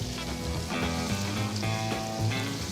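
Onions sizzle in a pan as the base for a bechamel pie, a dense, loud, continuous frying hiss close by with small bubbling crackles throughout.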